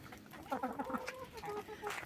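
Hens cluck in short repeated bursts, close by and fairly quiet, with a bit of background noise.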